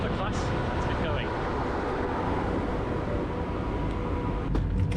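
Steady rumble and rolling hum inside a Go Ahead Nordic comfort-class passenger train travelling through Norway to Stavanger via Kristiansand, continuous and fairly loud, with a voice talking over the running noise.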